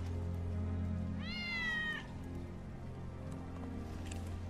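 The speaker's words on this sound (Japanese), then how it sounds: "ウェッジの猫だ。" Cat meowing in the Final Fantasy VII Remake video game: one clear, drawn-out meow over a low, steady ambient hum.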